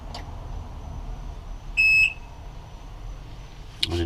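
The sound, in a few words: outboard boat key switch alarm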